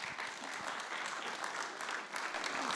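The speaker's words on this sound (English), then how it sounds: "Please give Jeanette a round of applause." Sustained applause from an audience greeting Jeanette Coyle before she reads at a nursing home care gathering, steady and dense clapping at moderate distance, filling the whole stretch without pause.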